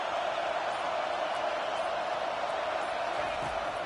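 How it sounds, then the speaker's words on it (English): Stadium crowd noise in a football video game, a dense, steady roar of cheering that holds loud and unbroken throughout. "listen to this crowd noise. This stadium is vibrating."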